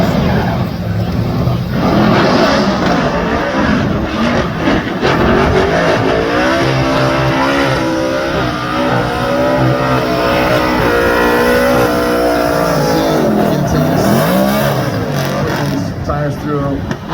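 A Formula Drift car at Irwindale finishes a sight lap with engine howl and squealing tires, loud and continuous, with commentators talking over it throughout.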